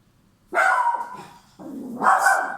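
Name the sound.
dog barking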